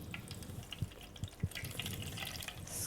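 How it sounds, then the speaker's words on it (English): Water drips and trickles from a cotton cloth wrung out over a bowl of white bean paste, quiet close splashes with a few distinct drops. "And wring out the water with all your might."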